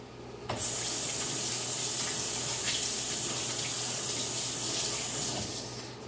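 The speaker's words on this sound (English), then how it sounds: "I'm gonna go wash my hands." Water runs from a kitchen tap for hand washing, a steady hissing stream that starts abruptly, holds close and loud for about five seconds, then shuts off.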